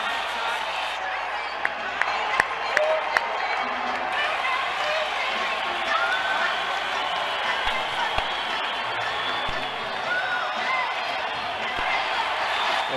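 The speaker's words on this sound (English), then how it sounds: "The fans here on their feet cheering." A baseball stadium crowd on its feet cheering after a record-setting walk, a broad steady roar of many voices with scattered claps and shouts throughout, while a commentator talks over it.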